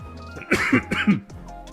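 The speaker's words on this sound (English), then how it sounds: "Again, sorry for the coughs." A couple of rough, close coughs in quick succession, throaty and moderately loud, over a faint background hum.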